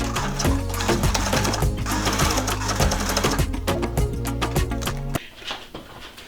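Domestic sewing machine stitching the bottom hem of a vest, a fast steady mechanical whir with rapid needle clatter running close and loud for about five seconds, then stopping.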